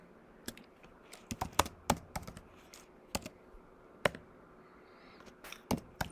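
Password keys tapped on a computer keyboard during a Linux terminal session, a quiet, irregular run of about a dozen sharp clicks with small pauses, close and alone.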